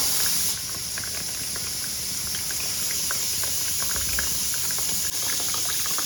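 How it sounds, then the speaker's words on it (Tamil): A pressure cooker holding cowpeas (karamani) vents close by, giving off a steady, unbroken hiss of escaping steam with a faint high whistle held over it throughout. "அந்த பக்கம் குக்கரில் காராமணி வச்சேன் இல்லையா, தட்டைப்பயிறு விசில் வருது"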